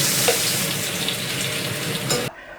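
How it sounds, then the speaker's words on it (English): A breaded mince meatball browning in hot oil, giving a loud, dense, continuous frying hiss up close that cuts off abruptly near the end. "So I'm just going to place one mystery meatball in there and try and get it browned evenly all over quickly."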